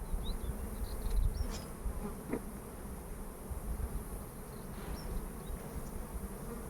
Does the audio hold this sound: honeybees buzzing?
yes